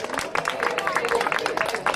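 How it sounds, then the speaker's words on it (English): A pier-side crowd claps and cheers to welcome a singer, loose scattered applause with voices babbling and calling out, fairly faint and distant. "I want to please give a very, very loud cheer for a wonderful singer"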